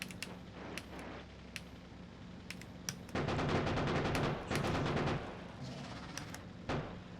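Rapid car-mounted gunfire strafes enemies in Krastorio2, Factorio's 2.0 mod. It starts as scattered pops, then turns into loud sustained bursts of rattling automatic fire with short pauses and no talk.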